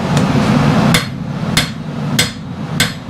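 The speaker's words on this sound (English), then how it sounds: "I want you to hammer right here." A bladesmith's hammer strikes a blade on an anvil, four sharp metallic blows spaced about half a second apart, ringing over a steady low workshop hum.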